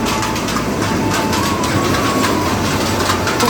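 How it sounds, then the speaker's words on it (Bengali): An amusement park ride train at Swapnapuri runs past, giving a steady, loud rumble with rolling rail clatter and a faint squeal that continue evenly throughout, with no talk. "এই ট্রেনটা যাওয়ার সময় আমি প্রথমেতেই তুলতে ভয় পেয়ে গেছি, যে লাস্টে যে আওয়াজ হলো"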